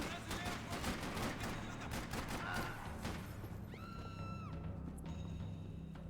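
Rapid bursts of gunfire fill the Max Payne 3 game mix, dense and loud over a steady low rumble for several seconds, then fade as a few sustained tones take over near the end.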